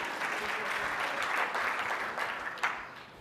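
A crowd applauds steadily, a dense wash of clapping that holds throughout and fades slightly at the end.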